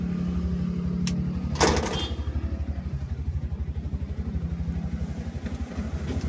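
A motorcycle freshly back from body work idles and runs close by with a steady, rapid low thumping pulse, broken by a brief clunk and a rattle early on.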